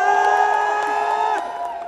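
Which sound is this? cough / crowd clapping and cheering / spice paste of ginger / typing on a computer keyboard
crowd clapping and cheering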